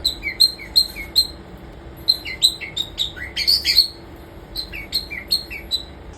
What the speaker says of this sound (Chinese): 玄凤鹦鹉它的音乐性真的非常好，非常的会唱歌，而且会吹口哨